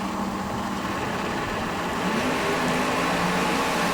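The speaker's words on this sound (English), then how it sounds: "the big Sonny Leonard engine getting spooled up now" A drag racing car's big Sonny Leonard engine idling and spooling up in pre-stage, a loud continuous low rumble that swells slightly in the second half.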